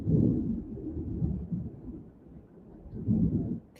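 Low rumbling thunder rolls through the whole stretch, swelling near the start and again toward the end, with no talking over it.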